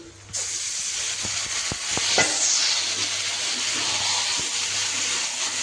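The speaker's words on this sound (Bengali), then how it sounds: "এবার আমি মাংসটা কষাতে থাকবো" Chicken pieces stir-fried in hot oil in a wok for chicken kosha, with a loud continuous sizzle and scattered spatula scrapes and knocks, and no voices.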